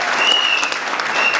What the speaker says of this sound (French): Vous pouvez l'applaudir parce qu'il vient de loin.